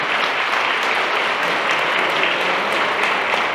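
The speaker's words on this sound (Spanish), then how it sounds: "Un fuerte aplauso a San Juan del Río." A crowd at a Mexican cultural awards ceremony in San Juan del Río claps in steady, dense applause that continues evenly throughout without a break.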